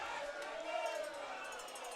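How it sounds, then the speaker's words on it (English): A football crowd in a Montreal stadium responds with disapproval to a foul, giving a steady, dense roar of many voices that holds at an even level for the whole moment. "The crowd doesn't like it."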